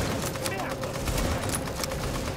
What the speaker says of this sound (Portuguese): Ele tá debaixo do cover atirando em mim